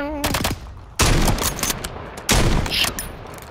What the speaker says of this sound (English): Well, those are warning shots.